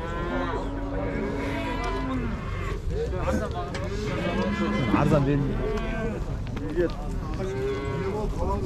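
Cattle bellowing and mooing at a busy livestock bazaar in Merke, with several drawn-out moos at varying distances, the loudest near the middle, over crowd noise and talk.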